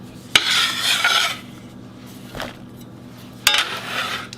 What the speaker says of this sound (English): I'm going to put these in my bowl and get them over here to the stove top